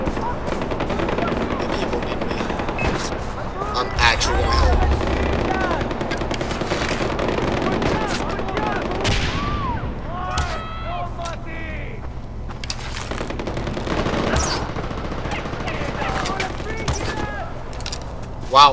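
Gunfire in Far Cry 4 from close-range hip shots at two enemies, heard as scattered rapid shots and bursts amid game effects, music and a talking voice over roughly twenty seconds.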